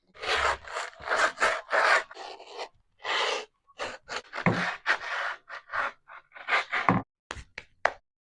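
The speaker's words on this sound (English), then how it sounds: "Time to sand it down." Close, rough rasping strokes as a skateboard is sanded down by hand, coming in irregular back-and-forth bursts with brief pauses between them.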